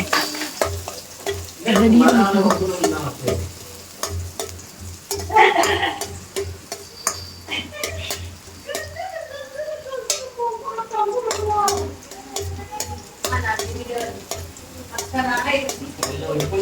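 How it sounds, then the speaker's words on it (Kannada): Ginger and garlic fry in a pan for chicken chilli, with a soft sizzle under repeated clinks and scrapes of a stirring spoon and occasional voices in the background. "ಶುಂಠಿ ಬೆಳ್ಳುಳ್ಳಿಯನ್ನು ಫಸ್ಟಿಗೆ ಹಾಕ್ತಿದ್ದಾಳೆ"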